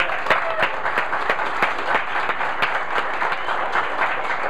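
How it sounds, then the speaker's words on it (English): Applause from a small audience at a meeting, a steady patter of individual hand claps with distinct sharp strikes, moderately close and continuing without talk. "We have a round of applause for Lance real quick?"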